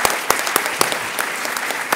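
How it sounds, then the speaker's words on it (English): Audience applause at a Latino education and advocacy day gathering: steady, dense clapping from a crowd across the full stretch, with a few sharper individual claps standing out near the front. "So let's give ourselves an applause for showing up today"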